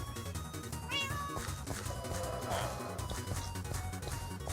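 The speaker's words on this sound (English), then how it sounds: "I believe this was Nat's first cat." A cat in the game Minecraft meows a few times, clearly heard over background game music and ambience.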